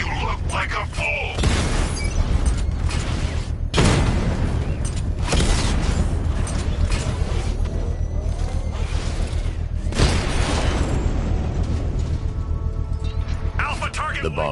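A bomb goes off in a controlled explosion in Batman: Arkham Knight, with heavy booming blasts and shattering bursts rolling through a dense, loud game soundscape.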